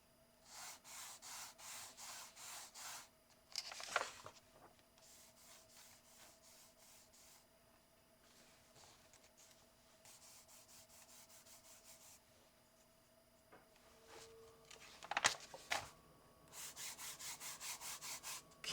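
A water-based marker rubbing across a colouring book page coated with Liquitex clear gesso, its rough, sandpaper-like surface giving repeated rhythmic scratchy strokes in bursts, close and fairly quiet, with a brief pause in the middle.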